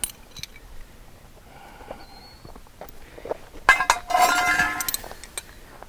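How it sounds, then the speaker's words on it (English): A socket set is handled while assembling an in-ground basketball system, with a burst of metallic clinks and rattles after a quiet stretch with a few faint knocks. "So let's go ahead and get our socket set."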